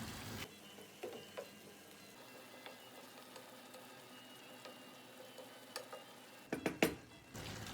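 Ground meat is stirred in a pan after a cup of beef stock goes in, giving soft scraping and wet stirring with faint sizzling, then a cluster of sharper utensil clinks near the end.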